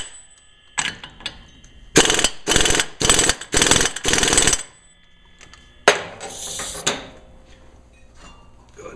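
Ratchet wrench tightening the axle nut on a 1998 GMC K1500 during a ball joint job, a few scattered clicks followed by four loud bursts of rapid ratcheting, then a final shorter run of clicking nearby.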